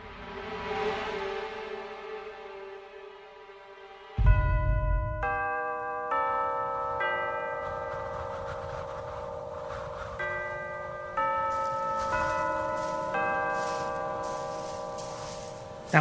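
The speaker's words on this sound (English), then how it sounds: "That was the bells, sir." Church bells ring as a sound effect in a Doctor Who audio drama, signalling one minute to sunset and curfew. After a low rumbling opening, a sequence of clear, sustained, overlapping chime tones sounds alone and close for the rest of the clip.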